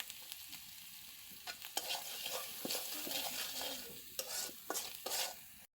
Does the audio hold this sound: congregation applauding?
no